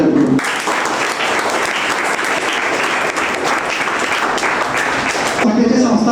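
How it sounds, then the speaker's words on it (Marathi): A school audience bursts into loud, sustained applause to welcome the organisers of a notebook distribution programme, many hands clapping in a thick continuous roar for about five seconds, with a voice heard briefly before and after. "मी त्यांचं टाळ्या वाजवून सहर्ष स्वागत करतो"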